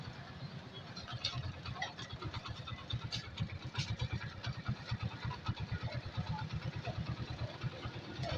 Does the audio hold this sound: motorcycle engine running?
yes